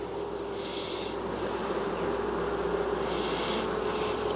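Honey bees in a sparsely populated nuc hive give a steady, dense buzzing drone close up, continuous and even throughout with no voices.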